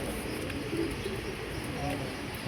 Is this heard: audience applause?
no